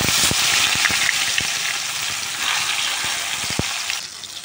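Bay leaf and tomato go into hot oil with cumin in a pan, bursting into a loud, hissing sizzle with scattered ticks and spatters that fades somewhat toward the end.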